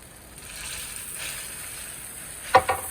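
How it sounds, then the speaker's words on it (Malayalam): Hot water poured into sizzling masala for masala dosa, a steady frying hiss building over a few seconds, then a sharp burst of crackling spatter as the water hits the hot pan near the end. "ഇനി വളരെ കുറച്ച് ചൂടുവെള്ളം പാർന്നു കൊടുക്കാം."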